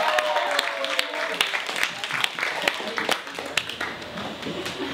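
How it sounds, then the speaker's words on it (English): An audience applauds with dense, continuous clapping, individual sharp claps standing out, while a voice speaks over it. "give her a round of applause."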